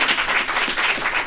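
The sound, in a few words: audience applause for a guest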